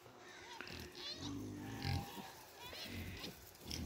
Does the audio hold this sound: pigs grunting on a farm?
yes